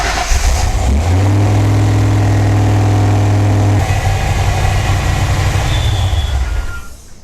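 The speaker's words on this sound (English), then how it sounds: "So let me let the engine heat up." A car fitted with an On3 turbo kit cranks and fires up, then settles into a loud, steady idle with a deep rumble and turbo whine that continues until it fades near the end; no one speaks.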